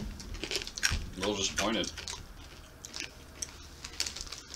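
Someone munches chili-flavored corn nuts from El Salvador, giving crisp, close crunches in quick bursts, with a short stretch of talk early on and lighter chewing afterward.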